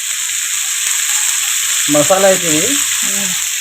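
Masala frying in a home kitchen pan for Sunday-special paneer bhaji gives off a steady, fairly loud sizzle throughout, with a voice breaking in briefly near the end.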